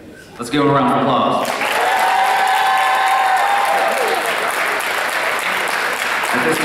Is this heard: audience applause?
yes